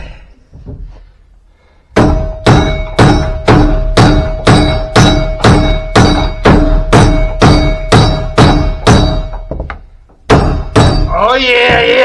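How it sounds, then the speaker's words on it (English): Hammer blows strike a boat shaft coupler on a sailboat while a loose flange bearing clangs with each hit. About fifteen loud, evenly spaced metallic clanks sound close up, with a short pause before the final blows. "That clanging noise that you're hearing is the flange bearing that is loose right now."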